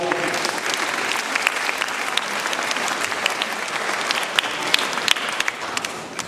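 Steady applause from a theatre audience at a Sardinian-language comedy, a continuous crowd of clapping hands at moderate volume with occasional sharper individual claps standing out.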